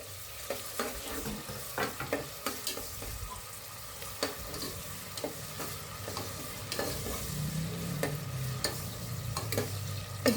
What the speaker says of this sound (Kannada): ಟೊಮೊಟೊ ಹಾಕ್ಕೊಂಡು ಚೆನ್ನಾಗಿ ಫ್ರೈ ಮಾಡ್ಕೊಳ್ಳೋಣ.